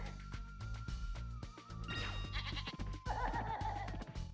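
Goats bleat repeatedly in the Cloud Temples level of the video game Spyro 2, several cries layered over game music and effects with no talking.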